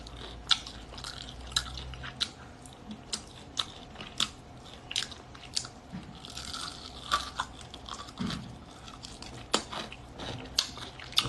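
Someone chews German pork knuckle up close, with quiet, irregular crunchy bites and wet mastication sounds repeating steadily throughout, no talking.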